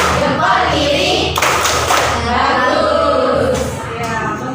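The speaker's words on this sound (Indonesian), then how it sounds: "Berikan jempol untuk Rizka, tepuk jempol" Classroom thumbs-clap for a pupil's correct answer, a burst of pupils clapping and tapping together in a lively, fairly loud wash with teacher and children's voices mixed in.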